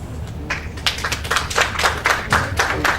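Audience clapping at a public address on freedom of information, a thin, uneven patter of individual claps that starts sparse and fills in slightly, close and moderately loud.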